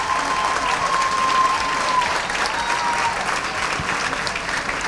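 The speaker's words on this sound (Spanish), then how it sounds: "Un aplauso a la facultad de la Ricardo Arroyo" A graduation audience at the Ricardo Arroyo school applauds the faculty with loud, sustained clapping from a large crowd, filling the whole stretch without a break.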